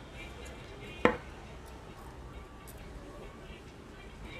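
Crochet yarn for a doily tablemat being cut with a single sharp snip, close and brief, set against a quiet room background.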